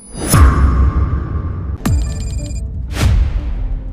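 A telephone tone sounds right after a call is hung up, with three loud, sharp electronic bursts spaced roughly evenly across a few seconds, ringing alone without any voices.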